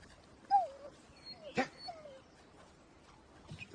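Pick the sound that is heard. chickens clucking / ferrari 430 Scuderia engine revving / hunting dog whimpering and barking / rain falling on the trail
hunting dog whimpering and barking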